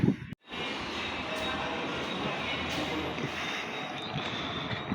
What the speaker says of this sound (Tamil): திருநெல்வேலி ஸ்டேஷனில் வந்து நிற்கிது சென்னை ட்ரெயின்.